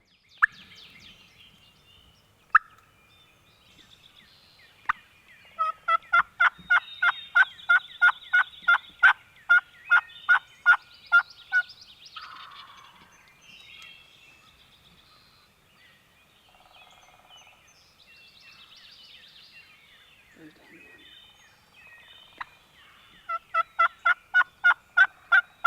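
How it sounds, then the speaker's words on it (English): Wild turkey gobbling in an Ohio field during a spring turkey hunt: repeated loud gobbles, the first coming in several clusters, then a quieter stretch with faint calls before another gobble near the end. "this bird's gobbling good"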